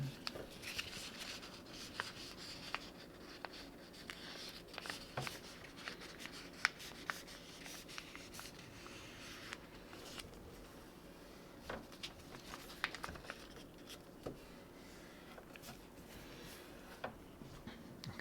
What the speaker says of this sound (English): I'm going to fold the paper in half right along line